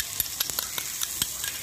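Pork belly mixture frying in a pan is stirred, with a soft sizzle underneath and light, irregular utensil clinks and scrapes against the pan, close up and fairly quiet.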